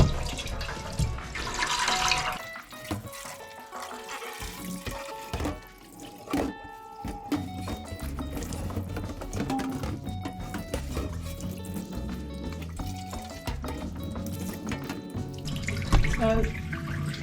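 Tap water runs into a sink while a Ninja Dual air fryer basket is rinsed, making a continuous splashing gush with clatter and knocks of the basket throughout, fairly close and moderate in level.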